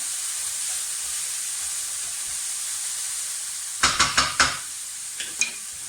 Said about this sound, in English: That's all cooking down.